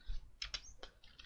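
A handful of computer keyboard keystrokes, clicking in quick, uneven bursts while CSS text is entered, close up and fairly faint.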